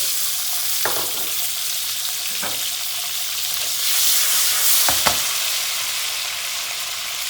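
Steady loud sizzling of shallots frying in hot oil, with a few soft clinks of a utensil stirring in the pan.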